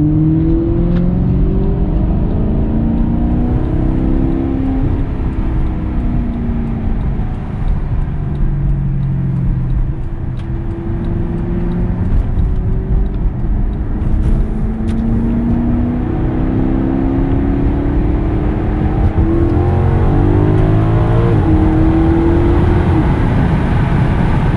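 A supercharged Corvette V8 rumbles loudly and steadily, with its pitch rising and falling through repeated accelerations and gear changes, close and continuous, with no talking over it.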